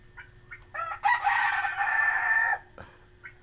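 A rooster crows once, close and clear, in a drawn-out call of about a second and a half, with a few short clucks before and after over quiet background hum.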